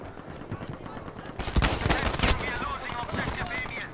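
Automatic weapon gunfire in Battlefield V, a burst of rapid shots rising sharply after a quieter stretch of battlefield noise, then trailing into scattered further fire and rumble.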